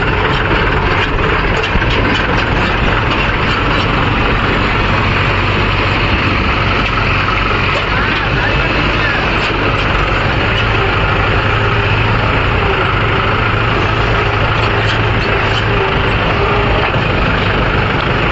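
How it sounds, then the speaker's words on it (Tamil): Several JCB 3DX backhoe loader engines running together at a site where lake soil is loaded into tractors, a loud continuous diesel drone with steady low rumble throughout. "இன்னைக்கு 4 ஜேசிபி ஓடுது ப்ரோ"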